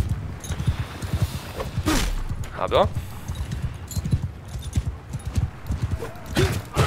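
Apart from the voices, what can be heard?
horse clip-clop and whinny in video game Mount & Blade 2 Bannerlord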